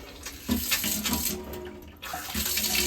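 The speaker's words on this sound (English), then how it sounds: "water's now back on." Water from a Vellamo Hero kitchen tap runs into the sink after the supply is restored, a close splashing gush that sputters and cuts out briefly around the middle, then resumes.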